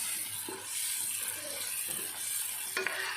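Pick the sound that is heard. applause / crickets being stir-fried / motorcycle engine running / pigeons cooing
crickets being stir-fried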